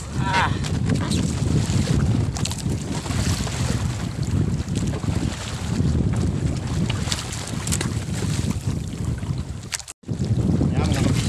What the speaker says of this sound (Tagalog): Lalakas na ng hangin salatan